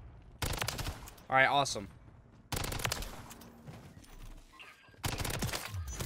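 Bursts of MTZ 556 rifle fire in Modern Warfare 3 crack out in three loud sustained volleys, separated by short pauses, with someone briefly talking between them.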